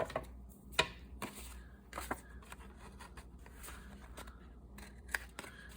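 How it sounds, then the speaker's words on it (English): Scissors snip around the corners of a paper envelope in a craft journal project, a run of short crisp cuts close up over soft handling noise. "I need to trim the corners."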